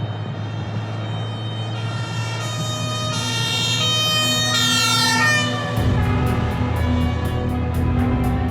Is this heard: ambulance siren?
yes